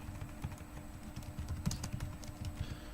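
Steady run of light clicking keystrokes on a computer keyboard while typing a Facebook status post, quiet and close, with uneven rhythm and no talking.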